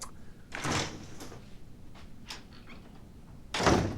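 An indoor door is opened as someone walks in, with a soft knock or thud, faint rustling and then a louder bump near the end, all without speech.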